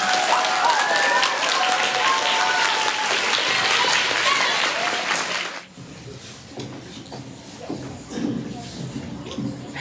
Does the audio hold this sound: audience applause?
yes